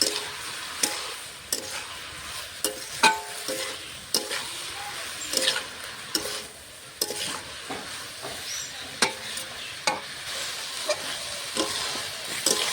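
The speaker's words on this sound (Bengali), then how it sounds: "ভালো করে নেড়ে ছেড়ে ভেজে নেবো সবজিটা" Vegetables for chorchori, a Bengali mixed-vegetable dish with fish roe, stirred and fried in a pan with salt and turmeric: a soft continuous sizzle broken by regular scraping stirs of a spatula, close and fairly quiet, with no talking.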